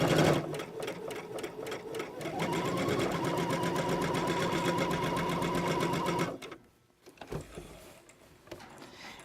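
A sewing machine stitches steadily around a curved shirt sleeve edge with a rapid, even mechanical whir for several seconds, then stops and leaves a few faint clicks and handling sounds.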